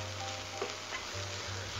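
Vegan sloppy joe mixture cooks in a hot skillet, a constant soft hiss and crackle of frying that runs evenly throughout with a low hum beneath it, quiet and unaccompanied by talk.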